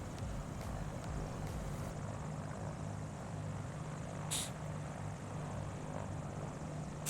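A light aircraft back-taxiing on a runway at a fly-in, its propeller engine giving a steady, loud droning hum throughout with a brief click midway, heard from inside the cabin.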